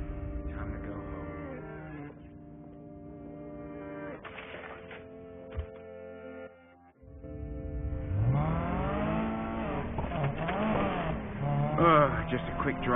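A car engine in the video game Need for Speed Payback drives steadily, with rising and falling tones under game dialogue and music throughout.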